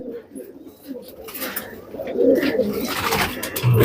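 Soft, low cooing of pigeons repeats throughout, close by, with faint rustling and a few higher chirps in the background.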